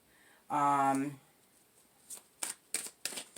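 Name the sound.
shuffling tarot cards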